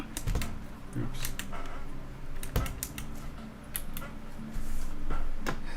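Clicks of a PC keyboard being tapped during a computer game, irregular bursts of close keystrokes over a low background hum.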